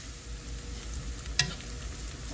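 Onions fry in a pan for a Guyanese fish curry, giving a steady, soft sizzle with one brief louder clink or stir partway through. No one speaks.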